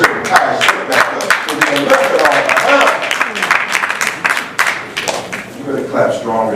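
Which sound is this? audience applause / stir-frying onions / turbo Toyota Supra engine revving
audience applause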